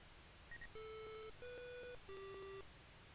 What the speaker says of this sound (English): Those beeps are the first 3 notes of the music from Close Encounters of the Third Kind.